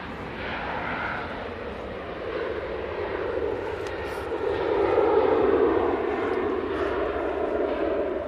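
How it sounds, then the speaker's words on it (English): A Ryanair Boeing 737 jet departing from Manchester Airport for Barcelona builds into a broad, rising engine roar, heard from a distance and steady throughout, with no talk over it. "Ryanair 737 taking the intersection"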